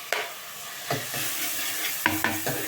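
Curry leaves crackle in hot oil for parotta salna, a steady close sizzle punctuated by several sharp spoon scrapes and stirs against the pan.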